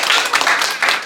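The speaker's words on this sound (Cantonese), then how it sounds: "好，俾啲掌聲佢哋先" A small audience at a Hong Kong school showcase gives a short burst of bright, close clapping in uneven pulses, loud and alone.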